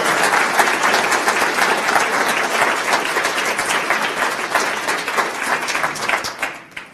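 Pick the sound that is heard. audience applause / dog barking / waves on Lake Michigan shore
audience applause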